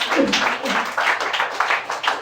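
Applause from an audience at a personal storytelling talk, steady dense clapping across the whole stretch with a voice briefly audible near the start, fairly close.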